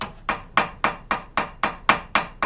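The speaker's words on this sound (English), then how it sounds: "We're going to use the rounded end of a ball peen hammer" A ball peen hammer strikes the end of a homemade rivet in a fast run of about nine crisp metallic blows, close and evenly spaced, each ringing briefly.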